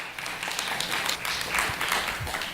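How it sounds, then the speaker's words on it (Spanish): A church congregation applauding: steady, moderately loud clapping from many hands that continues without a break, slightly distant and roomy. "Si le va a aplaudir, apláudale a Él."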